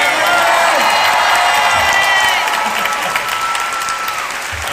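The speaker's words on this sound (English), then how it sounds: "everyone just clap and cheer for Morgan" A convention hall crowd at a 2019 Comic-Con cast panel for The Good Place claps and cheers for a producer, with loud, dense applause, scattered whoops and shouts that ease slightly toward the end.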